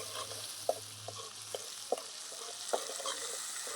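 Yellow fat from crab heads frying in a pan, a soft steady sizzle with a few sharp spatula taps and scrapes, fairly quiet and heard without voices.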